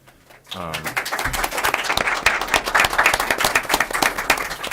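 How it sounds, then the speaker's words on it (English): A room of people at a school committee meeting bursts into applause for students, a dense burst of clapping that starts abruptly after a brief voice and carries on steadily, moderately loud. "I want to applaud you first and foremost for that."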